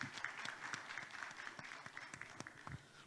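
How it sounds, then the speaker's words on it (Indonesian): Audience applause for speaker Pak Heru at a housing talk show: faint, steady clapping from a crowd throughout. "Kita berikan aplaus kepada Pak Heru."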